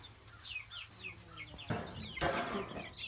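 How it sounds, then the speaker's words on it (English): Chickens clucking and chirping steadily at close range, with a few louder squawks and rustling toward the end. "while that fills, we're gonna go get the other chickens"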